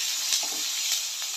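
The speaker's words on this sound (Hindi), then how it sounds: "इसको हम और थोड़ा फ्राई करेंगे।" Grated ginger and a bay leaf fry with onions in a hot pan, giving a steady close sizzle with faint crackles throughout.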